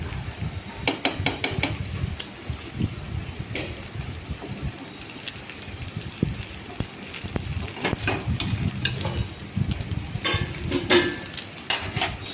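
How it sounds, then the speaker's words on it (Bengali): An egg omelette frying in a pan, a continuous low sizzle broken by scattered scraping and clinking of a spatula against the pan, close and steady throughout. "তো ওর জন্য ডিমের অমলেটটাও ভেজে নিলাম"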